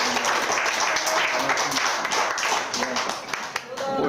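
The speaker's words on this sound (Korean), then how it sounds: "우리 다시 한번 목사님 감사의 박수 드리겠습니다" An audience in a church lecture hall claps in thanks for a pastor, a dense steady applause lasting throughout, with speech-like tones and a voice faintly woven under the clapping.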